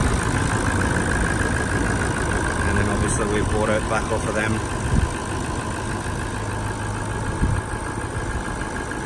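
A 2018 Toyota LandCruiser 200 Series Sahara idles with a steady, constant engine drone throughout, while someone talks over it close by.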